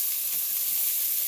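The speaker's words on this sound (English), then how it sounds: "going in the pan are those onions" Onions sautéing in a hot pan at a camp meal prep make a brief, even, bright sizzle and hiss with no other sound.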